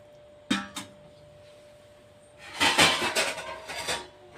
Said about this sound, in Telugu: నేను నీళ్ళు పోస్తున్నాను